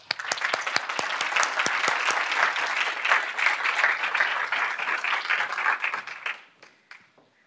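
Warm audience applause welcomes speaker Hakeem Belo-Osagie at a speaker-series event: steady, dense clapping from a room of people that holds for several seconds, then thins out and fades to scattered claps.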